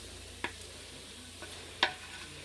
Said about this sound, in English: my lovely husband here is stirring the chicken that I've spent some delicate time chopping up